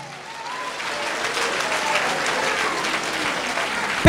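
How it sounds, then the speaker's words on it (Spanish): Church congregation applauding loudly in a sustained, even wash of clapping that swells slightly and holds steady, with a faint voice briefly audible early on. "Fuerte aplausos, iglesia."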